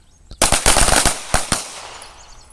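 Handgun shots fired at targets on an outdoor shooting range: a rapid string of about six or seven sharp, loud cracks, then two more separated shots, each followed by a brief ringing decay.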